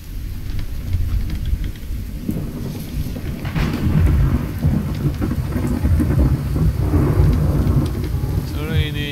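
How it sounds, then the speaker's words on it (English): Steady heavy rain falls in the video game The Infected, with low rolling thunder rumbling underneath throughout, all continuous and fairly loud. "It's a very rainy day."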